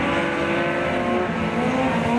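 A front-wheel-drive super stock race car at the Hawkes Bay championship screams past at speed, its engine a loud, steady, high-pitched drone with a gravelly track rumble underneath.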